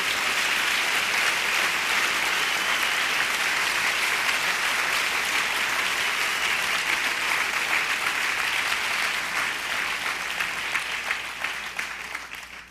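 A church congregation bursts into loud, sustained applause during a sermon, the dense clapping filling the room steadily before easing slightly near the end.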